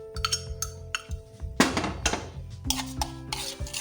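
A spoon stirs yogurt and spices into a chicken tikka marinade in a bowl. The clip is short and close, with scraping and clinking knocks against the dish in an irregular rhythm and no talk.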